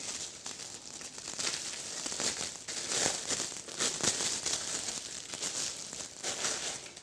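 Plastic foil crinkling as a rolled-up board game player mat is unwrapped, with bursts of crisp crackling and rustling that rise and fall irregularly across the whole stretch, close and fairly quiet, with no talk.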